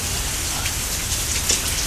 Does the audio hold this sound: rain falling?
yes